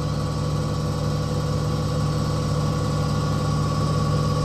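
A common rail injector test bench runs a maximum load test, giving a loud, steady mechanical drone with a constant low hum and even tonal whine, unbroken for the whole stretch with no talking.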